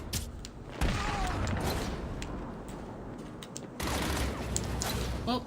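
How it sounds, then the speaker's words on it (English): Gunfire in the video game Batman: Arkham City during an intense firefight, dense bursts of shots and mechanical clanks over a loud continuous wash of game noise. "Intense firefight at the moment."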